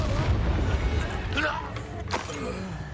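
A Confringo fire spell explodes in the game Hogwarts Legacy, heard as a deep rumbling boom that fades into a sharp burst, with voices talking over it.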